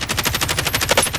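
Rapid automatic gunfire in Call of Duty: Modern Warfare, a loud, evenly spaced burst of shots firing in quick succession with no pauses.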